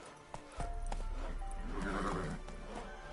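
Roach, Geralt's horse in the video game The Witcher 3: Wild Hunt, lets out a loud neigh and whinny over clip-clopping hooves, close by, with faint talk underneath.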